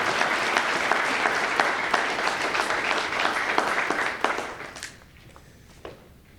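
Audience at an event celebrating a mental health court's 20th anniversary breaks into dense, sustained applause, then the clapping fades over a couple of seconds to a few scattered claps.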